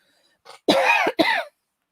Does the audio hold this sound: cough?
yes